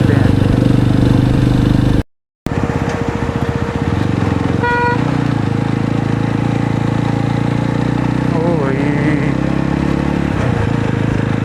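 A cruiser motorcycle rides along winding hill roads, its engine droning steadily and loudly throughout, with a brief dropout and a couple of short horn toots. Someone talks over the engine.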